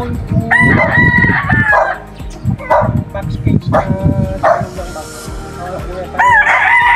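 Roosters crow several times, loud and close, over dogs barking and people talking nearby.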